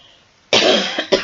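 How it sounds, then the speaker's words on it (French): A person with a sore throat coughs two times, close and loud, in a harsh first burst followed by a shorter second cough after brief silence. "J'ai mal à la gorge, quand je tousse, ça me fait encore plus mal."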